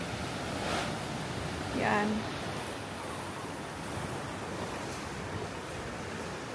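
Steady broadband rush of strong sea surf and wind at Kawayan Resort, Siquijor, waves washing continuously nearby, with a brief voice speaking once early on.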